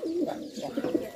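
A large Bombay pigeon coos in a close, rolling series of throaty notes, steady and fairly loud with no other sounds over it.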